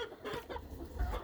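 Chickens clucking inside a coop, a busy cluster of close, moderately loud clucks and low fowl calls running throughout with no talking.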